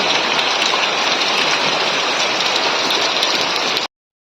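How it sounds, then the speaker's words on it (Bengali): Heavy rain pours steadily and loudly on a cold, foggy day, a dense unbroken hiss that continues without pause and then cuts off abruptly near the end, with no voices. "প্রচুর বৃষ্টি হচ্ছে এই ঠান্ডা পড়েছে চারিদিকে পুরো ঘন কুয়াশায় ঢাকা আর তার মধ্যে চলছে বৃষ্টি"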